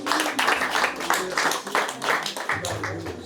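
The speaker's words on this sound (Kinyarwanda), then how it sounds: "reka tumubakomera amashyi rwose" Audience clapping at a Rwandan wedding, a steady patter of many hands running throughout, loud and continuous, with a low hum and some voices underneath.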